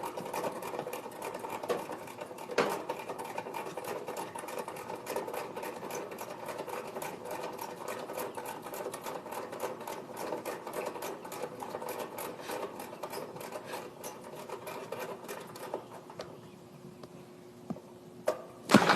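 An air conditioner compressor runs while being charged with Freon, a steady rapid mechanical buzzing chatter with a few sharp clicks, continuous and close, easing slightly near the end.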